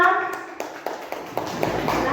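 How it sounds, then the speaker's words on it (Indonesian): Children in an Indonesian classroom clap for a group after a discussion, giving a few scattered, uneven claps that ring out over a murmur of kids' voices. "beri tepuk tangan"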